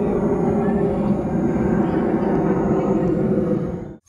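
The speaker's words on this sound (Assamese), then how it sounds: "এখন চাওক প্লেন একদম ওচৰৰ পৰা" A close airplane passes near a hilltop viewpoint outside Guwahati, a loud, steady broadband roar filling the whole span before cutting off abruptly at the end.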